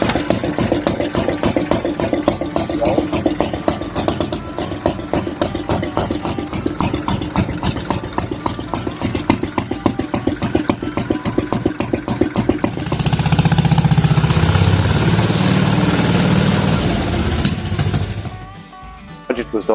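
A restored Trac Grip autotruck engine turns over and settles into a steady, rhythmic idle close by, its low chugging beat continuous before a louder, rougher surge of running near the end.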